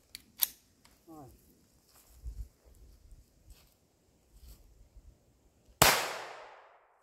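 A single sharp report from a Taurus TX22 pistol rings out near the end, loud and close, after a stretch of quiet handling noises and low murmuring voices.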